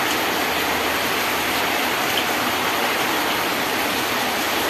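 Heavy rain falling, a dense, constant hiss that stays loud and unbroken throughout, with no voices over it.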